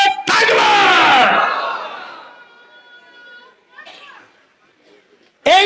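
A large crowd at a religious sermon roars a Nara-e-Takbir chant in one loud, sustained shout that echoes and fades through a hall, followed by scattered quieter voices and another sudden burst at the end.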